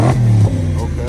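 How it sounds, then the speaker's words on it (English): A BMW car engine with 87,000 miles, newly repaired after failing to start, runs with a low steady rumble, briefly louder at first and then settling, with people talking over it. "So the engine sounds good."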